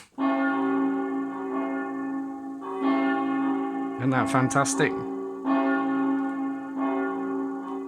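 A synthesized church bell tone from an electronic keyboard rings in sustained, repeating strikes, with a person speaking briefly in the middle.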